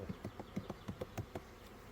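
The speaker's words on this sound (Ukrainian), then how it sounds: "от такі от бджоли" Honeybees buzz faintly at an apiary hive, with quick wingbeat pulses recurring in an uneven rhythm over a soft, steady background hum.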